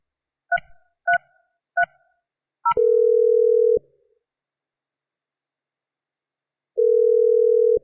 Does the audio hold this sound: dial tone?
yes